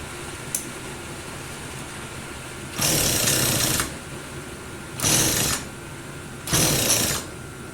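The small engine of a Texas mini tiller, recently given a carburetor cleaning, tries to run in three short, loud sputtering bursts of about a second each, broken by quiet gaps.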